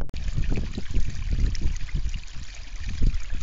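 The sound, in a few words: water flowing through aquaponics biotope over stones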